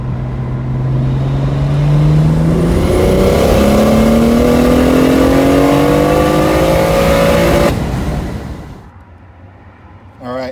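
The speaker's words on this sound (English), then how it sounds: "We'll do a third gear pull." BMW 135i with a single-turbo conversion pulls hard through third gear, its loud engine note climbing steadily in pitch for about eight seconds before the throttle lifts and the sound drops away.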